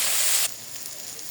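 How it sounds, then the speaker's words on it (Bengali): Minced beef fries in a pan with onion, salt, turmeric and spices for a beef bhorta. A loud, bright hiss cuts off abruptly after half a second to a quieter, steady sizzle. "এবার কিমাটা দিলাম, ভালো মতো উল্টে পাল্টে নেড়ে চেড়ে নিব।"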